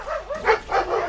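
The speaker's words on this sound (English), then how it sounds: "And there's my dogs." Dogs barking and yelping up close, two loud whiny barks over a low rumbling background with a rising and falling whimpering tone.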